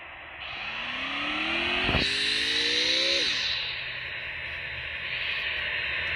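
A car in the Free Fire game drives steadily with a loud, constant engine whine and road rush, rising briefly in pitch with a sharp knock near the middle before settling.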